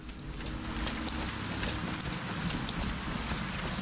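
Rain pours outside during a thunderstorm, a continuous close wash of drops pattering on surfaces with scattered brighter ticks, steady and unbroken throughout.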